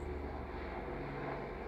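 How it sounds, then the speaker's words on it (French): Low droning engine noise from aircraft passing over Paris, a steady muffled hum with no distinct rotor beats, faint and continuous throughout the short stretch. "C'est les hélicoptères à Paris."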